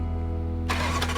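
A low steady hum, then an engine suddenly catches and turns over into a rough, loud running rumble.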